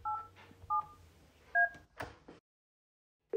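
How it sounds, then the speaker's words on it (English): Three short DTMF tone pairs sound as a number is keyed on a Yealink T46 desk phone. Brief beeps are spaced apart over a faint low hum, followed by a short click and a final tone. "To make a call, simply dial your chosen number and press send."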